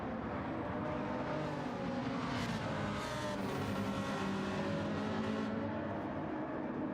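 Race cars, including a Lamborghini, Ferrari and McLaren, speeding down the Camel Straight in the racing game Gran Turismo 7: a continuous, fairly quiet engine drone that rises and falls slightly as the cars race.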